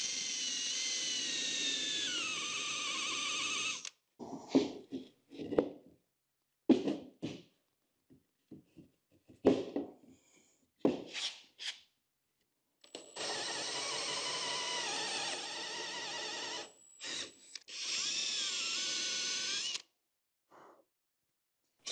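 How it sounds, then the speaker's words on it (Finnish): A power drill bores holes in boat parts, whining loudly in two sustained bursts with the motor pitch shifting under load, separated by short clicks and knocks of handling. "Tässä poraan reijät valmiiksi noihin osiin."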